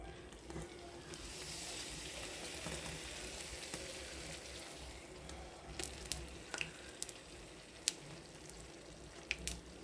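A small smiley-shaped poori fries in hot oil, a quiet steady sizzle with a few sharp pops and spatters near the end, no speech over it.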